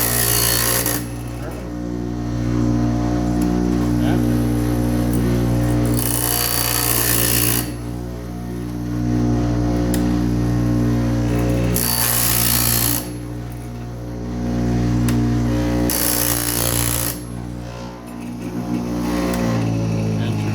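A homemade bandsaw blade sharpener runs loud and steady with a constant motor drone, broken by several bursts of harsh, bright grinding as the wheel meets the blade.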